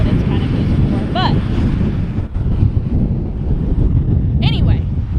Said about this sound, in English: It's really windy today here in Oklahoma